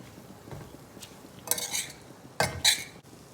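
A spoon stirs a thick curry with moringa leaves in a pan over a low flame, making a few soft scrapes and sharp metallic clinks against the pan.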